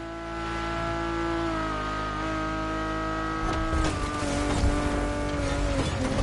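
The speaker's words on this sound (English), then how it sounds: "And the car's voice sounds even better from inside." A Ferrari engine is heard from inside the car. It holds a loud sustained note, then rises with rapid throttle blips and rough bursts in the second half.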